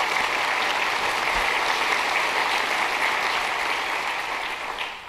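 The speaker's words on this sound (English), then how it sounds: "let's give Steve and our board a real warm round of applause" Warm audience applause fills a San Mateo County business awards ceremony, a dense, steady roar of many hands clapping close and loud for about five seconds before easing slightly at the end.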